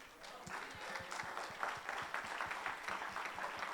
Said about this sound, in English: Let's give the Lord a hand of praise.